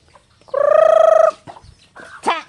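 A chicken's loud, harmonic call lasts under a second, followed by a few shorter squawks and a sharp final cry, close by in a quiet setting.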